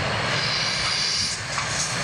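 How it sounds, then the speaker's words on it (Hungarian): A Belgian Air Force Agusta A109 helicopter comes in to land, its engine and rotor producing a loud, steady broadband roar with a whining turbine tone, continuous and close throughout. "akkor majd ezt a helikoptert látjuk úgy leszállni, mint hogyha repülőgép lenne"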